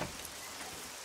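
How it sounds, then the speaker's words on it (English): Rain falls in the survival video game SCUM as a soft, steady hiss of droplets spread evenly across the sound, fairly quiet and continuous with no voices. "It's raining"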